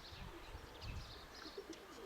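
Pigeons cooing from above a house, soft low murmuring coos spread through the clip, faint and fairly distant over light outdoor ambience.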